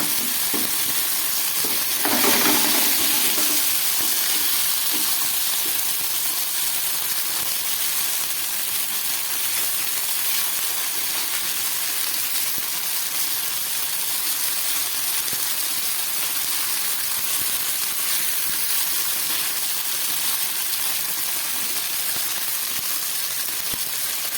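Food frying gently in a pan gives a steady, soft sizzle that holds evenly throughout, with a brief stirring clatter near the start and no talking.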